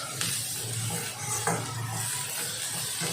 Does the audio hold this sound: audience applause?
no